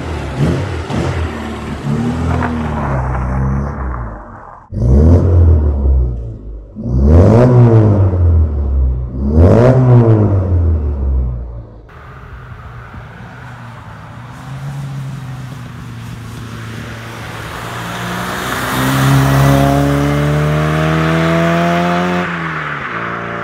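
Austin Mini engine after a valve adjustment, loud and close, revving up in several sharp rising bursts that fall back, then settling into a steady droning run and climbing again as the car drives off, with no talking.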